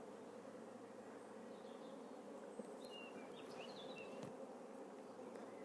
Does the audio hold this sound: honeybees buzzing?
yes